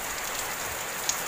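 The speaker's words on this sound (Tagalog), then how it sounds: "ramdam na yung ulan" Steady rain from Typhoon Ulysses falls on surfaces near a riverside creek, a dense even hiss with no breaks and one faint tap, loud and close.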